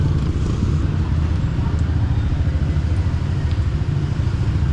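A group of motorcycles on a road near a cafe during a southbound ride: a steady, rumbling blend of engines passing close by, moderately loud and continuous throughout.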